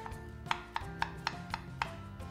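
A knife chopping up a pineapple on a cutting board, seven or eight crisp, evenly spaced thuds in quick succession, close and fairly quiet against a low background hum.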